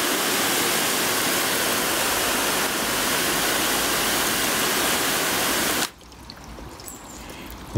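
A garden hose sprays steady, loud water over a car body finished with Meguiar's paste wax and liquid wax, the rushing hiss lasting several seconds before cutting off abruptly.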